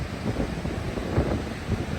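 Gusty wind on an ocean bluff in Olympic National Park pounds close against the mic, a continuous loud rush with uneven surges and no voices.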